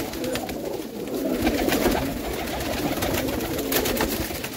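Lal Ambarsare pigeons cooing in a loft in Lucknow, India, with soft repeated low coos over a busy, fairly loud background of birds and ambient noise, and no talking.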